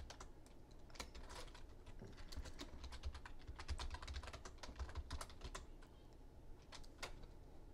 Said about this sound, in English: I'm going to type in the info that has here on the page.